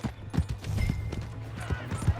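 Horse hooves clip-clopping in Red Dead Redemption 2 gameplay, a close series of uneven hoof knocks with a low rhythmic thud across the clip, alongside faint game ambience and no clear talk.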